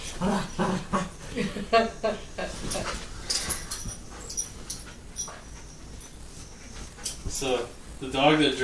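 A dog pants in quick rhythmic bursts and lets out a few thin whimpers, close by, alongside a small fluffy 15-pound Cavalier, with people talking at moments over the sounds.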